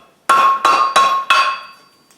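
Four evenly spaced hammer strikes ring out on hot chain links set on an anvil horn during chain forge welding, each a bright metallic clang with a sustained ring that fades after the last blow. No voices.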